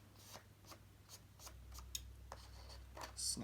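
Scissors snip off the overhanging edge of washi tape on a paper dashboard layout, giving several short, quiet crisp cuts spaced apart against faint background rustle.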